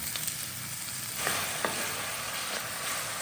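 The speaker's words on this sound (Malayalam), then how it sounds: "ടൊമാറ്റോ ഒരു മീഡിയം സൈസ് അരിഞ്ഞതാണ് അതിനകത്ത് ചേർത്ത് കൊടുക്കുക" Medium chopped tomato frying with onion and masala in a pan, a dense steady hiss of sizzling with a couple of faint stirring knocks, close and even throughout.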